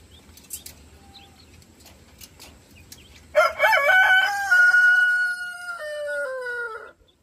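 A rooster tending a brood of a dozen or so chicks gives a loud, drawn-out call close by, preceded by faint clucks and a brief flutter of wings.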